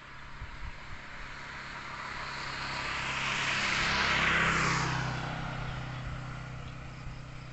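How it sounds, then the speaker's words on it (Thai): An airplane flies overhead outdoors under a cloudy sky, its distant engine drone slowly swelling to a soft peak and fading again over several seconds above a steady background rumble. "ว้าวเห็นเครื่องบินด้วยนู่นตรงนู้น"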